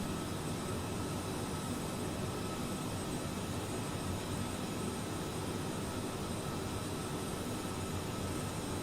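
Steady, unbroken jet drone of a Qatar Airbus A330 cruising in Microsoft Flight Simulator, a constant broadband cabin hum with no changes or other sounds.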